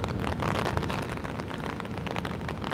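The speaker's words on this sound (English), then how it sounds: "the rain was falling under the umbrella" Heavy rain patters densely and steadily on an umbrella outdoors as a storm approaches Washington DC, a loud, close, continuous hiss of drops.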